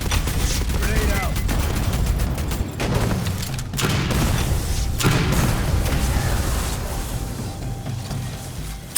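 Grenade explosion and gunfire in Aliens: Fireteam Elite 2, a continuous barrage of close automatic fire with heavy booming thumps standing out, loud and unbroken for the whole stretch.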